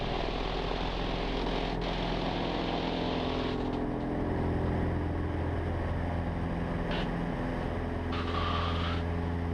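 A Cessna 150 light aircraft engine runs at full power on the takeoff roll, a steady, loud propeller drone with a constant hum and no talking.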